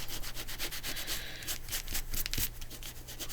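Quick repeated scrubbing strokes of a finger rubbing dried glue off washi tape, close and steady with a brisk rhythm, no talking.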